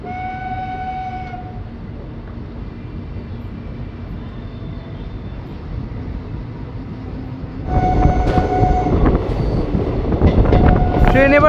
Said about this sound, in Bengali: সুন্দর একটা কার্ভ নিয়ে ট্রেন ধীরে ধীরে এগোচ্ছে।